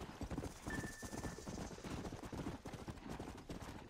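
Horse hoofbeats in the Red Dead Redemption video game ring out as a steady clip-clop of a ridden horse, close and continuous, over game background sound.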